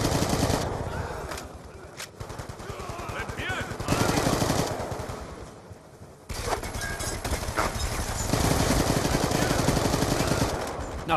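Video game gunfire with explosive rounds: loud, sustained bursts of rapid automatic shots with short gaps between volleys, close and dense, with faint game voice lines mixed underneath.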